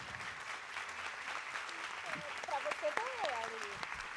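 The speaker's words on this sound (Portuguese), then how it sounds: "quero pedir muitas palmas para Bianca e Estelle" An audience at a literary event applauds the speakers, steady clapping that runs throughout while a voice speaks over it.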